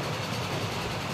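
A train running in Transport Fever at about 74 mph gives off a steady rumbling roll with low engine drone, continuous and close throughout.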